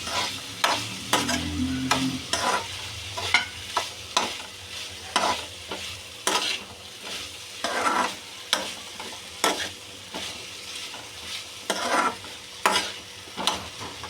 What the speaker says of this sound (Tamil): இப்போ போட்டோம்ல சேனக்கிழங்கு அதை வந்து நல்லா இப்படி கிண்டி விட்டுக்கணும்